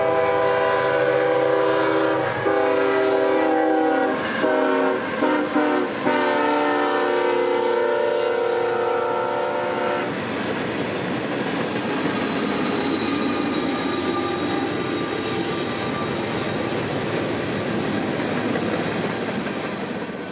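Freight train M442 from Tampa passes at speed near Folkston between Baldwin and Waycross, its horn blaring in long and short blasts over a rumbling locomotive, followed by a steady rush and rattle of cars rolling by close.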